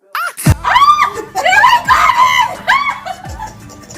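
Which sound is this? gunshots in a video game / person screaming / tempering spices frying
person screaming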